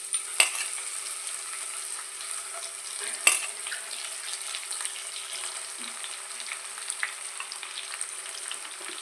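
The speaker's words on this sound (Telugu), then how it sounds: "ఫస్ట్ ఆయిల్ వేడెక్కిన తర్వాత ఎండ్రాయిలు వేసుకోవాలి." Dried prawns frying in hot oil in a home kitchen, giving a steady, close sizzle with a few sharp crackles and pops throughout and no talking.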